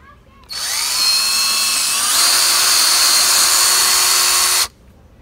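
A power drill whines loudly and steadily for about four seconds while drilling a hole, its pitch shifting partway through as it bites in, then stops abruptly.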